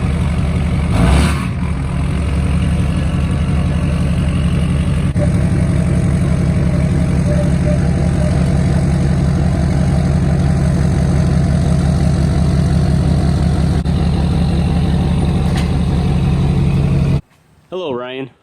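A Duramax diesel truck engine idles with a loud, steady low rumble and rhythmic clatter that carries on unbroken, with a brief bump near the start and a quieter break just before the end.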